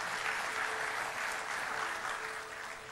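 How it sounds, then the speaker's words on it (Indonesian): A church congregation applauds, a dense, steady wash of clapping from many hands at moderate distance that fades slightly toward the end. "kita berikan tepuk tangan bagi nama Tuhan."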